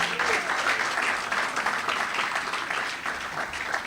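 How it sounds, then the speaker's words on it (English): An audience at a university event applauds the Kingston drummers after their performance. Steady, dense clapping continues throughout with no talk over it. "Another round of applause for the Kingston drummers, please."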